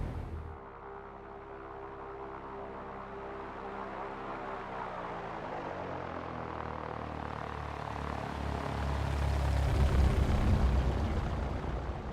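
A Cessna 172 Skyhawk taxis to the ramp at Catalina airport in X-Plane 11, its propeller engine a steady, throbbing drone that grows slightly louder and rougher toward the end.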